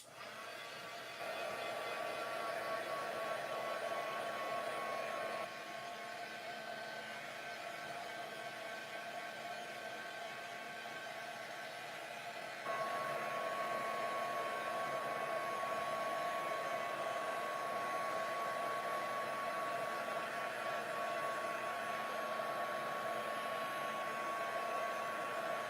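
A hair dryer blowing steadily on chalk-painted surface for a craft project, a loud continuous whir that shifts slightly in pitch partway through, with no talking.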